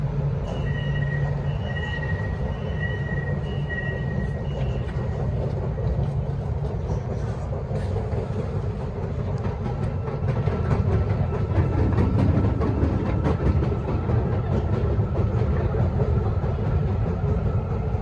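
An underground metro train rumbling through a tunnel station, a steady loud roar with rail noise and brief tonal squeals, continuous throughout without talk.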